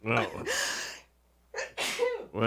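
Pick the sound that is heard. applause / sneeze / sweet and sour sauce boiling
sneeze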